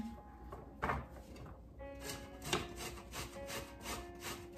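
Green plantain rubbed against the fine side of a hand grater in a home kitchen, giving steady, close rasping scrapes with a few sharper strokes.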